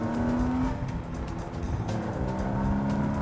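A car engine's deep, steady rumble close by, with a brief tonal whine and road noise, no talking.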